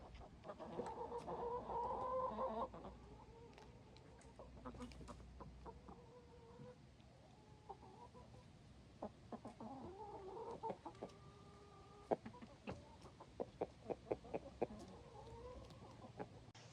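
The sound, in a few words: hens clucking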